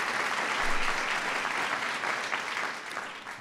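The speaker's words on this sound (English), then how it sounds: "So please give them a round of applause." An audience at a national arts and humanities medal ceremony breaks into sustained applause, many hands clapping in a dense, even patter that swells briefly and then holds steady before tapering slightly.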